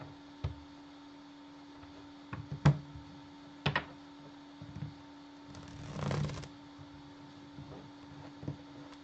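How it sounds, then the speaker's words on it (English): Tarot cards being shuffled by hand, a series of soft scattered flicks and riffles with a longer rustling burst near the end, faint and close in a quiet room, with no speech. "Let me shuffle."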